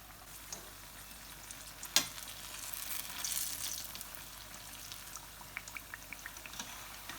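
Kenyan-style maru bhajia, battered potato slices, fry quietly in hot oil with a soft continuous bubbling sizzle, a single clink near the start and faint pops scattered throughout.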